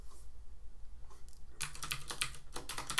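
Rapid bursts of computer keyboard typing, quiet at first and then dense clicking keystrokes in the second half, close and alone.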